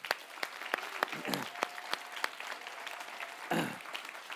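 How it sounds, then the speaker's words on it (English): Scattered, fairly sparse clapping rises from the audience at a writers' awards ceremony, individual claps audible in an uneven rhythm, with a louder burst near the end. "A round of applause for all of them."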